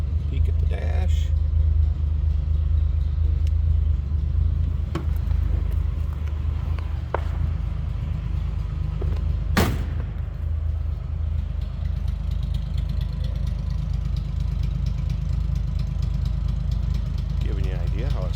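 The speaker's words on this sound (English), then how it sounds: "How it sounds. Again, 170 cubic inch inline 6-cylinder." A 1963 Ford Falcon Futura convertible's 170 cubic inch inline six idles with a steady low rumble, close and loud, with a sharp click partway through.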